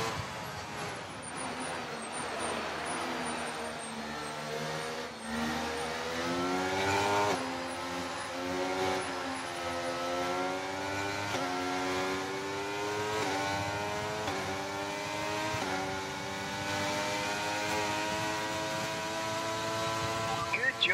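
F1 23 race car engines scream through an overtake, with high, sustained revving whose pitch rises and shifts across gear changes for a long stretch, while a voice speaks over them now and then.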